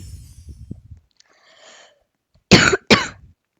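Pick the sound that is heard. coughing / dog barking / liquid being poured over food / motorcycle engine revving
coughing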